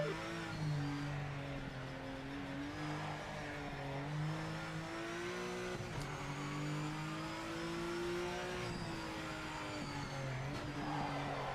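A TVR race car in Project Motor Racing drones with a steady engine note, rising and falling through gentle revs heard from the cockpit, with a brief shift blip midway.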